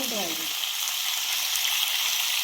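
Eggplant curry stir-frying in a pan, a loud continuous close sizzle with a brief voice at the very start.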